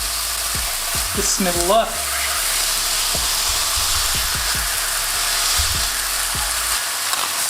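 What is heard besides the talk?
smashed meatball burger patties frying in a hot pan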